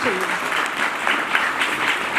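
Loud, sustained applause from an audience at a retirement party for a district education officer, a dense crowd clapping evenly throughout with a few brief spoken bits under it.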